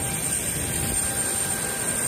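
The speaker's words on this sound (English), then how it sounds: "Airplane." A steady, continuous engine roar, broadband and constant for the whole stretch, like an airliner cabin drone with no voices, heard inside a plane in flight in rainy weather.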